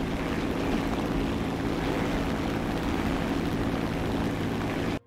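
A propeller plane engine in War Thunder drones continuously with a steady loud roar and low hum, unbroken until it cuts off abruptly at the end, with no talk.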